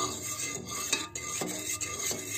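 Gelatin mixture stirred in a pot: a soft, continuous scraping swirl with faint intermittent clinks of the utensil against the pan, close and steady throughout.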